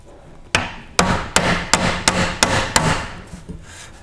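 A hammer taps a wood block laid over a vent window channel on a 1973-87 Chevy or GMC square body truck, eight sharp, evenly spaced strikes close and loud, then a quieter trailing tap.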